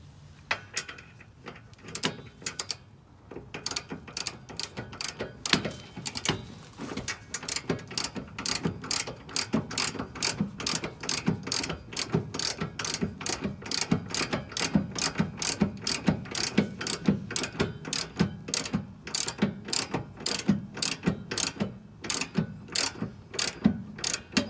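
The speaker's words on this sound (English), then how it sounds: "We're gonna torque it to 47 foot-pounds. Hopefully you know how to use a torque wrench." A torque wrench ratchets on the rear shock nut of a 2001-2006 Acura MDX: a long run of sharp, evenly spaced clicks, close and clear, repeating steadily for many strokes.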